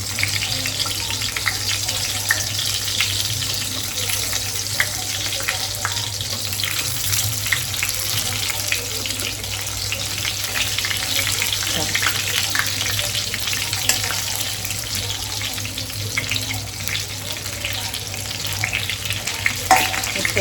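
Brinjal (eggplant) cooks in a pan on a gas stove, giving a steady, continuous sizzling hiss that holds at an even level throughout, with no one talking.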